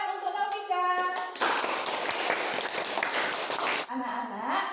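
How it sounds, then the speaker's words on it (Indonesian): A classroom of pupils in Indonesia breaks into loud, sustained rhythmic applause for a classmate, with a teacher's voice before and after the burst of clapping. "Tepuk tangan untuk Novika."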